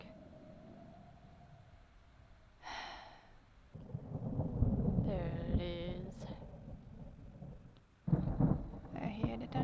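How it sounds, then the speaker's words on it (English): Thunder rumbles in a Zelda Breath of the Wild thunderstorm, deep low booms rolling in twice amid game effects, with someone talking over parts of it. "Thunder, bit of thunder."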